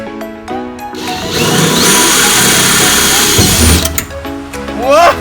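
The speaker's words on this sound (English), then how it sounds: "They're punched out with our air hammer." A pneumatic air hammer punches rivets out of a school bus during a skoolie gutting, sounding as a loud sustained metallic rattling burst that runs for several seconds, with quieter moments and people's voices before and after.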